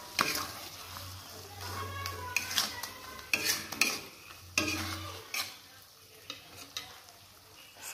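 Egg frying in a pan with seasoning as water is added, with sizzling, stirring scrapes and clinks of utensils against the pan, uneven and close.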